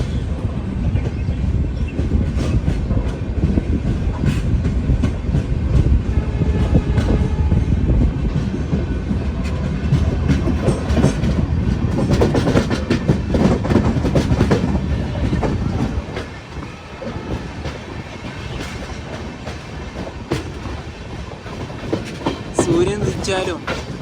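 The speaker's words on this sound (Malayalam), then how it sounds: "6:19 ട്രെയിൻ ഇതാ എടുത്തിരിക്കുകയാണ്." The Donyi Polo Express sleeper train rolls along in the Northeast India hills, a loud continuous rumble with rhythmic clickety-clack of wheels on rail joints, easing slightly toward the end.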